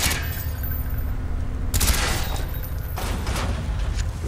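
An AUG rifle in Call of Duty: Black Ops fires at door hinges in three separate bursts of rapid shots, each loud and close, over a low humming background.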